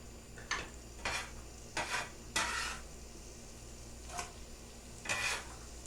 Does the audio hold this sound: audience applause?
no